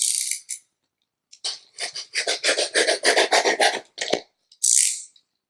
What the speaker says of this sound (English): then just rub off until it's clean